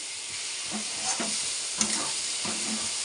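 Ridge gourd frying with coconut in a pan, a steady close sizzle running throughout, with a few soft stirring scrapes and clinks rising above it.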